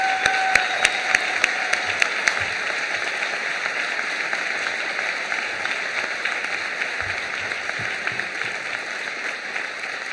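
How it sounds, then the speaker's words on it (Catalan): Crowd at a political rally in València applauds steadily, a broad even roar of clapping with a few sharp nearby claps standing out at the start, fairly distant and continuous. "Un fort aplaudiment per ella"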